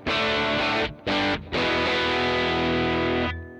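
Electric guitar played through a Yamaha THR10C practice amp on its Brit Blues preset with tape echo: loud overdriven chords ringing out, cut by two short gaps, then a long sustained chord that fades.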